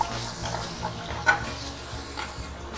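Tomatoes go into a pan with cooking masala and are stirred, giving a soft, close sizzle broken by light scraping and stirring noises, with one brief clack partway through.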